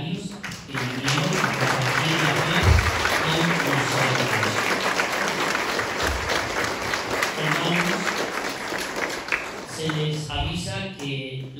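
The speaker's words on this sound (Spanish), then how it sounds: "Vamos a darle un aplauso a los padres, a los seminarios que vinieron." A church congregation at a feast for the Virgin of the Nativity in Arocutin, Michoacán, applauds parents and seminarians, sustained dense clapping for about ten seconds with voices over it before it fades.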